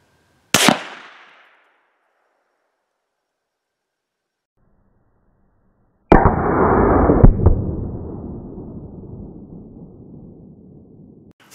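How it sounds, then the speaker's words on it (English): Rifle fire from a Mossberg MVP at an outdoor range, aimed at a 9-volt battery 100 yards out: a sharp loud crack near the start, then after a silence a second blast with a long decaying rumble trailing off. "If I miss the first shot, and then take it out the second shot"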